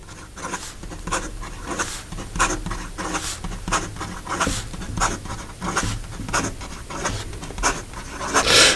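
A Benu Tattoo fountain pen scratches quickly across paper, a close, steady series of rapid rubbing strokes repeating in an even rhythm, with no talking.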